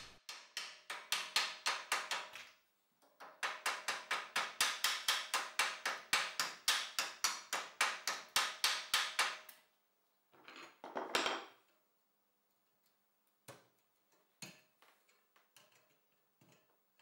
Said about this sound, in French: Le candidat marteau plus grattoir s'élance